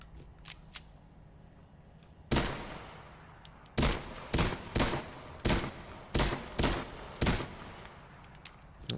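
Gunfire in the VR shooter Into the Radius 2: a few faint early shots, then a loud sharp report followed by a quick run of roughly seven evenly spaced, close, punchy shots, with no talking.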